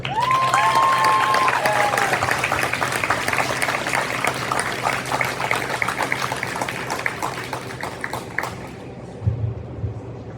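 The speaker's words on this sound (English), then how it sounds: "Let's give a round of applause as we invite Sheila Ford Beville up to the stage to receive her award." Sustained audience applause at a high school hall of fame induction ceremony as an honoree walks to the stage, a dense wash of clapping with a whistle near the start, fading toward the end.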